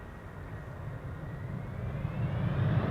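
Airliner landing at Amsterdam Schiphol with thrust reversers engaged, a broad low roar that swells steadily louder over the few seconds, with no talk over it.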